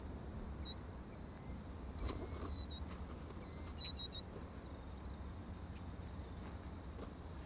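Crickets chirp steadily through a quiet night in desert grassland where grasshopper mice hunt insects, a dense high shimmering trill with a few faint bird-like whistles above a low rumble.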